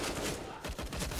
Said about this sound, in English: He's just walking into gunfire.